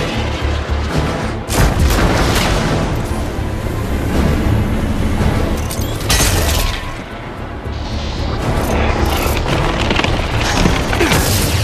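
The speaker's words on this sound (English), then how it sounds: "Thunderbolt missiles away." Heavy booms from Thunderbolt missiles exploding in the Iron Man VR game roll out in loud, dense bursts, with crashing, shattering debris and sustained rumble filling the whole stretch.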